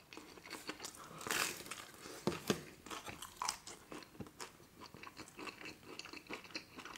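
Close-up eating of Pizza Pizza pepperoni pizza, buffalo wings and Wendy's chili cheese fries, with crisp bites, crunches and wet chewing in an irregular rhythm, quiet but near.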